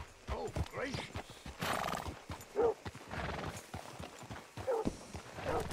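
A horse in Red Dead Redemption 2 whinnies while its hooves clip-clop in an uneven, close walking rhythm, with repeated snorts and neighs, under intermittent talking.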